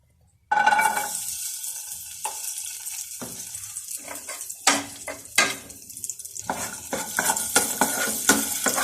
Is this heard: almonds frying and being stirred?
yes